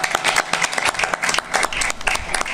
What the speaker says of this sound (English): Another round of applause for House Sleep